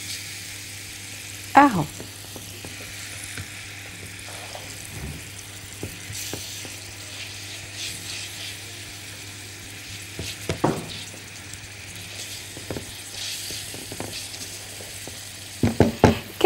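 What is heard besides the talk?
garlic and onion frying and being stirred in a pan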